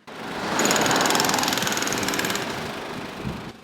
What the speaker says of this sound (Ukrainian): Сьогодні на трасі працюють дорожники, готуються до ямкового ремонту, зрізають асфальт та очищають від води та каміння.